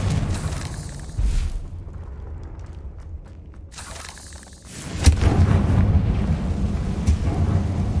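A Confringo blast spell explodes in Hogwarts Legacy, a loud booming burst that swells around midway into a rumbling roar, set against steady game ambience.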